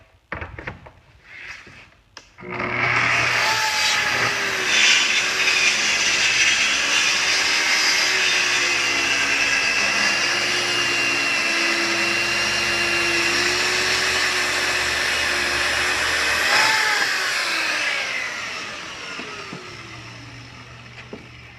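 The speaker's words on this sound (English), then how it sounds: "You can hear that the saw was not laboring." A Festool TS-55 track saw ripping a narrow board along its rail: the motor spins up after a few soft knocks, then a loud, even whine holds steady through the cut before winding down near the end.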